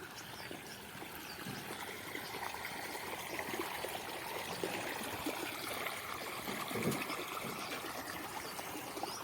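Continuous gentle water flow into a vegetable garden bed, a steady trickling rush close by, with no voices.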